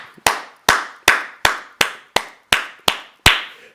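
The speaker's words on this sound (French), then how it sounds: "J'aimerais bien que tu acclames pour le Seigneur de gloire." About nine sharp, loud hand claps in a church service, landing in a steady, even rhythm roughly three per second, close and crisp, with no voices.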